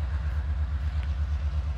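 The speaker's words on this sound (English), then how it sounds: "we got a Autorack train" A CSX autorack freight train rolls past with a steady low rumble and rhythmic wheel clatter, continuous and fairly close with no voices.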